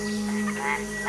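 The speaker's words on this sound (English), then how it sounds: "In competition with other male frogs, the vocalizations increase" Male frogs calling in competition with rivals, a steady droning croak with a sustained tonal hum, close and fairly clear over a quiet background.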